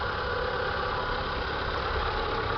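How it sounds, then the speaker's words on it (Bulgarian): An Opel car engine idling, a steady, even mechanical hum that holds unchanged throughout, close and fairly quiet. "Ето как работи двигател."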